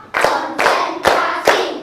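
A primary school class claps together in an Indonesian counting clap game, four loud, full-bodied group claps with a busy wash of many hands between them.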